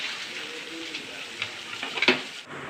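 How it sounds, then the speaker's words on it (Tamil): Aval puliyodharai, a flattened rice tamarind dish, stirred in a pan after coriander and curry leaves go in: a soft continuous scraping and faint sizzle, with a few sharper clinks of the spoon near the end. "கடைசியாக கொத்தமல்லி கருவேப்பிலை வந்து போட்டு கிளற சொன்னாங்க அம்மா போட்டு நல்லா கிளறிட்டு இருக்கிறாங்க"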